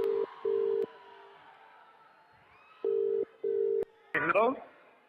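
A phone call rings out with repeated paired ringback tones, two bursts early and two more later, each clean and steady, followed by a short garbled voice on the line near the end.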